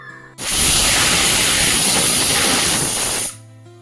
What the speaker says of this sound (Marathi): आता या कुकरच्या आपल्याला सहा शिट्ट्या करून घ्यायच्या आहेत